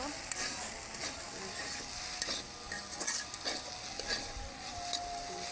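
Taro with turmeric fries in a pan, a steady close sizzle broken by scraping stirs and light clinks of a spatula against the pan.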